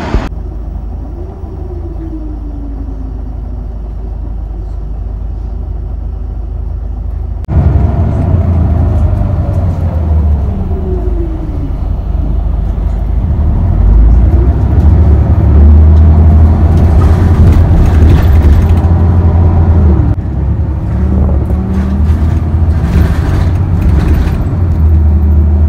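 Interior ride on an Osaka City Bus with a roll-sign destination display, bound for Suminoe-koen: a steady, loud low engine rumble that rises and settles as the bus pulls away and accelerates, with rattles and road noise throughout and no talking.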